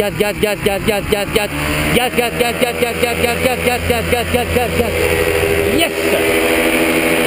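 A paramotor engine revs up loud and steady during a takeoff run at a flying school airfield, its droning pitch rising and sustained throughout, with an instructor's voice speaking over it.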